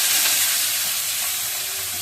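Green chilies and fenugreek seeds sizzling in hot oil, a dense continuous hiss that fades slightly over the short stretch, close and steady with no talk.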